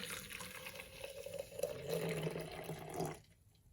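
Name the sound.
hot water being poured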